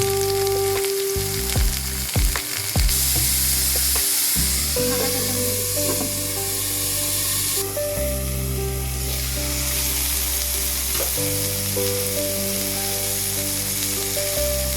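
Mixed vegetables fry in ghee and oil in a hot wok, giving a loud, steady sizzle close by, with a few scraping stirs and clinks near the start.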